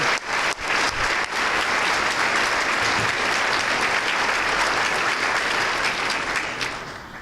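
Sustained applause from a crowd at an education foundation breakfast, loud and dense claps continuing for about seven seconds before gradually tapering near the end.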